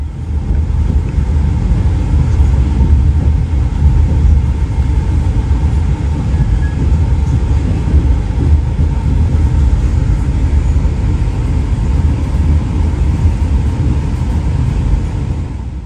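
Inside a passenger train pulling into Bandung city station in the late afternoon, a steady low rumble of wheels and running gear fills the cabin, continuous and even throughout with no talk.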